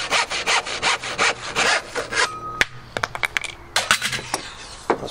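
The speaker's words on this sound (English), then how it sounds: "Cut it with a saw. I'm using here my floorboard saw" A floorboard handsaw cuts through a wooden rail in quick rhythmic back-and-forth strokes, then pauses with a few small knocks and scrapes before sawing resumes.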